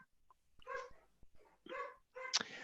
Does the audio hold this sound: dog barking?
yes